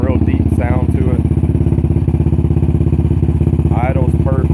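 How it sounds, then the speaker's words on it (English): A modified 2008 Yamaha Raptor 700R GYTR special edition ATV idles through dual exhaust with a loud, deep, steady rapid thumping pulse, close up. A voice cuts in briefly once or twice. "That dual exhaust, it sounds fantastic. Got a real deep sound to it."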